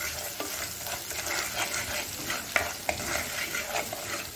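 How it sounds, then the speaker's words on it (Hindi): Chili, salt and turmeric being stirred into hot oil in a pan for a brinjal and fish curry: dense, continuous scraping and sizzling with a few sharper knocks of the spoon, nearby, no talking. "हल्दी तीनों को डाल देंगे अपन इसमें अच्छी तरह से मिक्स कर लेंगे"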